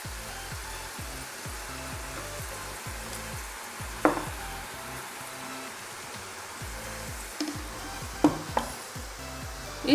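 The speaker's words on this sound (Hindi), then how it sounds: "हम सेकंड बैच इसका तलने के लिए डालेंगे" A batch of boondi frying in hot oil gives a steady, even sizzle across the whole stretch, with a few sharper clinks and scrapes of a slotted ladle against the pan and no talking.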